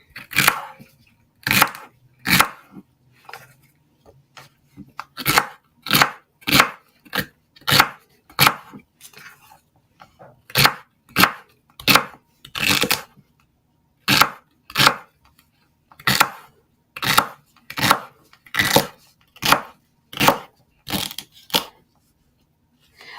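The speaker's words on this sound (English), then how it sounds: "So I'm cutting up a lot of celery here." A knife chops celery on a cutting board: sharp, close thuds in quick runs of several strokes, broken by short pauses, loud and clear with no talk over them.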